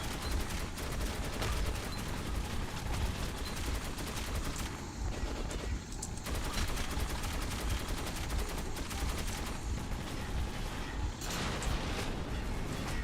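Sustained automatic machine-gun fire in the video game Metro 2033 Redux, dense rapid bursts that run almost continuously with brief gaps, loud and close, with no talking.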